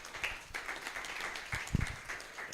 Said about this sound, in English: Let's give a warmer round of applause.